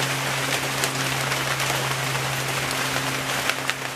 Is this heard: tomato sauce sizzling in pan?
no